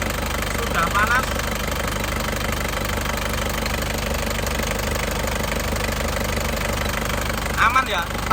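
A warm 2002 Isuzu Panther Touring engine idles with a steady, even rumble throughout, joined by a faint knocking rhythm and a couple of brief louder bumps near the start and end.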